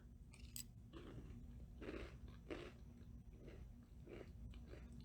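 Someone eats a parfait of crunchy chocolate cereal, strawberry yogurt and banana: soft, close crunching chews in a steady series of bites, quiet and alone with no talk.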